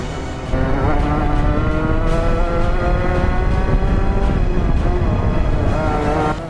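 A go-kart is driven hard through a lap on a damp track, its engine holding a loud, close, steady high-revving drone with slight pitch shifts as it brakes and accelerates through corners.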